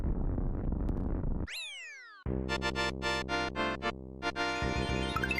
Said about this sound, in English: That was the sound of a shuttle crashing